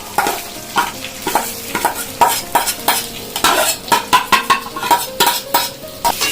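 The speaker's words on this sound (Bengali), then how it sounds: "এবার আমি চালটা দিয়ে দেবো" Rice is stirred in a pan with fried cashews and raisins for Bengali pulao: rhythmic, close scraping strokes of a spoon against the pan over a light sizzle, speeding up toward the end.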